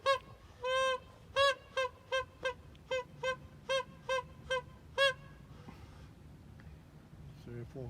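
A flock of geese honks in a field, roughly a dozen loud, evenly spaced harmonic calls in steady succession, then fading into faint background noise with a hint of distant activity.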